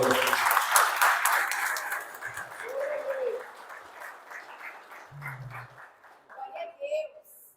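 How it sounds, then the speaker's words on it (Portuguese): Church congregation applauding during a worship service, a dense burst of clapping that is loudest at the start and thins out, with voices and a child's sounds mixed in. "Aplauda ao Senhor."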